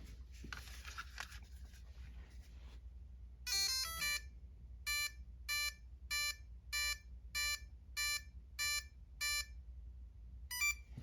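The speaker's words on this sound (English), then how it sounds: "let's turn the ESC on" An Arrma Kraton 1/5 8S EXB electronic speed control powering on, a short burst of tones followed by a regular series of about nine sharp electronic beep pairs, clear and close over a low hum.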